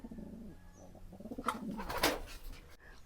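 Domestic pigeons coo in low, soft, repeated rolling calls, fairly close but quiet, with a brief rustle or flutter partway through.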